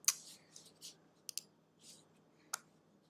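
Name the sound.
computer mouse clicking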